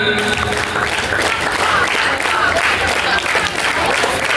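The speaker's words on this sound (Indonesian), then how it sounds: "Tiga kali tepuk tangan lima." Junior high students at a Ramadan Islamic school program in Jakarta clap together in a loud, fast group rhythm that keeps up without pause, a close, full roomful of hands.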